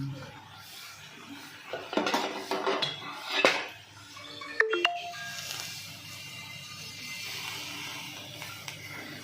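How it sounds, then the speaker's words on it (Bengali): A lid lifted off a pot of banana stem cooked wrapped in banana leaves in a home kitchen: a few clanks and metallic scrapes of pot and lid, with a ringing clink midway, then quiet background hiss. "এবারে কিন্তু আমি ঢাকনাটা খুলে নিচ্ছি"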